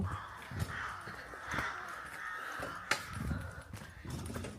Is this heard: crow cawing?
yes